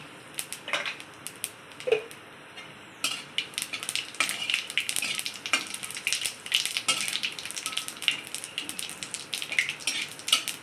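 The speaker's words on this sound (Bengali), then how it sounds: "ওর মধ্যে দুটো তেজপাতা দিচ্ছি, কটা জিরে দিচ্ছি" Bay leaves and cumin seeds hit hot oil left over from frying fish, giving a dense crackling sizzle that starts a few seconds in and continues steadily, with a few sharp utensil clinks against the pan.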